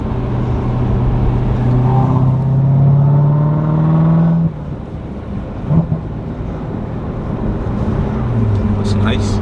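A 2019 Chevrolet Corvette Z06 engine climbs steadily in pitch under hard acceleration for several seconds, then drops away. Wind buffets the microphone throughout.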